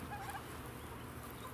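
Turkeys gobbling on a hillside by a permaculture pumpkin patch, a short burst of warbling gobbles near the start, faint and at some distance, then fading into background noise.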